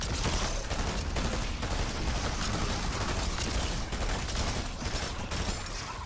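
An auto turret fires in a horde-mode video game, producing a dense, continuous stream of rapid gunfire with no pauses, steady and moderately loud throughout.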